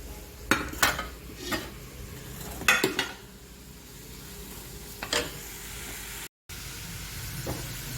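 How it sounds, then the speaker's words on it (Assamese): Spices and magur fish fry in a pan, a soft sizzle beneath several sharp clinks and scrapes as a utensil stirs against the metal, with quieter stretches between strokes. "এইখিনি ভালদৰে ভুনি লৈ তাৰপিছত এয়া মাগুৰ মাছখিনি দি দিম।"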